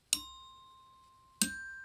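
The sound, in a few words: glockenspiel playing a perfect fifth interval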